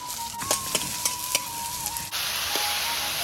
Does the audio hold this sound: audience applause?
no